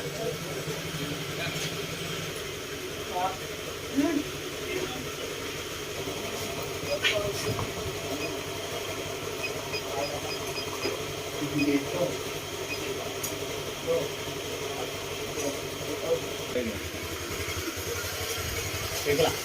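A Honda Click 125 scooter engine idles steadily after starting with a low, continuous rumble, while someone talks over it at close range.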